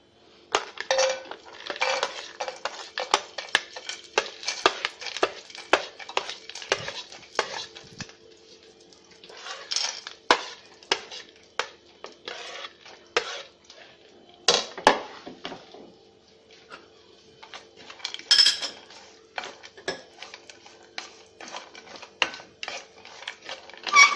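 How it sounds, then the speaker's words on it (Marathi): Almonds, cashews and charoli nuts being stirred in ghee in a pan, with repeated clinks and scrapes of a utensil against the metal in an irregular rhythm, fairly close and clear, no voices. "आधी आपण तुपावरती ड्रायफ्रूट्स हे करून घेऊया परतून।"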